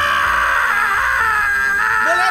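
A cartoon character from a Dragon Ball Z parody screams loudly and continuously, a strained, wavering high-pitched yell that holds for over two seconds with shifting pitch near the end.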